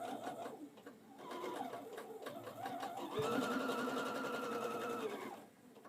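A sewing machine stitches a quilt top in close, quiet bursts, its motor whirring in short runs and then in one longer, steady stretch before stopping.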